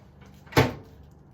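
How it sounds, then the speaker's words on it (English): An autoclave door is pulled open by lifting its lever, producing a single sharp metallic clunk at close range that decays quickly into quiet, with no talking. "open the door by pulling the lever up"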